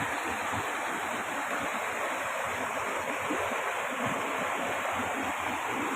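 Stream in flood season rushing over rocks, a steady, dense roar of water with continuous hiss and churning, close and alone with no talk.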